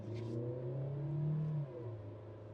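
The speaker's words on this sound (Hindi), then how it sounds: "अब ये क्रीप मोड है इसका, जिसमें मैं कोई एक्सीलेटर पेडल नहीं दबाया हुआ है, 8 की स्पीड से कांस्टेंट चल रही है" A 2026 Tata Safari with a 1.5L TGDI petrol engine creeps along in D1 at about 8 km/h and 700-800 rpm with no throttle, giving a steady, low, even engine hum with no voices.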